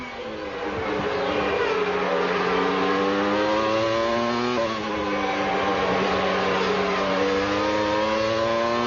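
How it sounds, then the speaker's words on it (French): Renault V10 Formula 1 engine heard onboard Jacques Villeneuve's car at the 1997 Luxembourg Grand Prix, a loud, continuous high-pitched scream with steady rising and falling harmonics through gear changes, no voices over it. "On écoute le V10 Renault."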